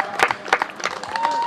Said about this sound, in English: How about a big round of applause for our paddlers?